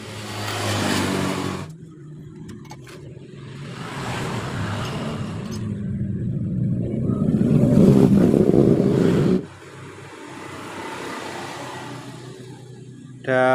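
A Honda Supra Fit motorcycle engine that stalls when the throttle is opened, heard close with a steady idle rising into longer revving stretches, cutting off abruptly near the end, with someone talking over it.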